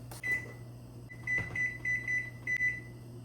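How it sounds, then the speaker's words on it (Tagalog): Kitchen timer beeping in bursts of short high electronic tones while pork simmers on the stove, over a low steady appliance hum in a home kitchen. "So, maglagay ako ng timer."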